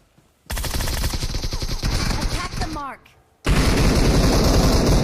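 Rapid automatic gunfire crackles in dense bursts in a battle royale shooter game, loud and close, dropping out briefly before another sustained volley resumes.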